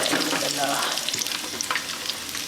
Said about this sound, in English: the onions look nice and brown, and I'm gonna add my meat.